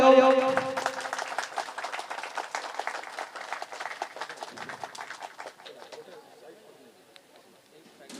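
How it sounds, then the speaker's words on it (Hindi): Audience applause at a 15 August Independence Day ceremony held by a welfare foundation, loud clapping from a crowd at first and then thinning and fading over several seconds, with some chatter underneath. "जोरदार ताली हो।"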